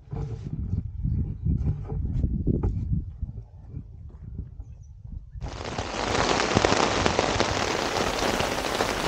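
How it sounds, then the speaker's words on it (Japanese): Rain falls on a campsite at Oze. At first there are scattered knocks and thumps, then heavy rain sets in as a dense, loud, continuous hiss that lasts to the end. "予報通り尾瀬は大雨となり"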